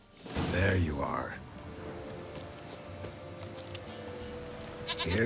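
A goat in a video game lets out one loud, wavering bleat at the start, followed by quieter game background sound and a brief noise near the end.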